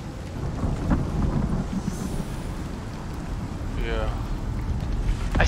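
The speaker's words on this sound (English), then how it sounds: "And then the thunderstorm comes. Did the thunder just hit our house?" Thunder rolls during a thunderstorm in the survival video game Icarus, a deep, sustained rumble over steady rain that stays loud and continuous, with voices talking over the storm.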